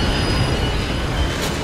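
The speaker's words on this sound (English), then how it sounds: "We just hopped on another train because the other guy told me to." A train in the video game Metro Exodus rolls along loudly and steadily, with a continuous rumble, rattle and squealing wheels up close and no voices.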